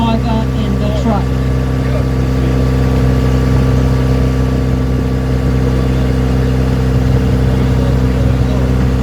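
A loaded wood chip truck is raised on a tipping elevator at a port, giving a steady, loud mechanical engine hum with a low drone throughout, under a man's speech.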